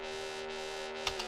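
A single bright synth note with no effects rings with a sustained, harmonic tone for about a second before cutting off abruptly, soft and alone.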